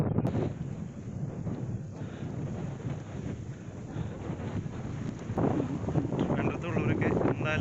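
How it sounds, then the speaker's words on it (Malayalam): Strong wind blows across the microphone at Ponmudi hill station in Kerala, a steady roaring rush that swells louder near the end, close and continuous with no clear talk. "കാറ്റാണ് കേട്ടോ, കിട്ടില്ല കാറ്റ്."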